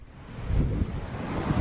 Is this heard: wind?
yes